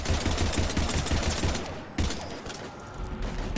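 Rapid gunfire during a combat scene in the video game Mass Effect 3, a dense continuous crackle of shots with a sharper burst near the midpoint, fairly loud and steady, with no voices.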